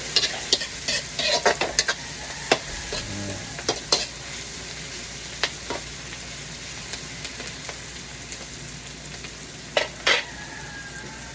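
Food fries in a pan with a soft steady sizzle while a utensil scrapes and clacks against it in scattered irregular strokes, close and unaccompanied by speech.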